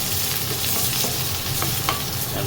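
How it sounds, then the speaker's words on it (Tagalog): Garlic sautéing in a pan, a steady close sizzle of frying oil with a few light scrapes and taps as it is stirred, continuous and fairly loud throughout. "Magigisa tayo ng bawang."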